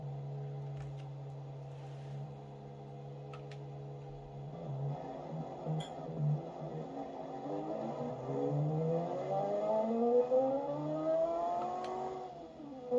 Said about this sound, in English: for whatever reason, the inline six sound carried over to this car